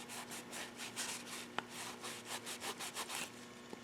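Scraping an old valve cover gasket off a Kohler Command Pro 25hp CV730 engine, a quiet, rhythmic back-and-forth rasping with one small sharp tick partway through and no voices.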